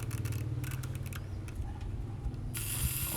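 An Exakta RTL1000 film camera's self-timer mechanism whirs with a steady mechanical buzz, ending in a sharper burst as the shutter fires, heard up close.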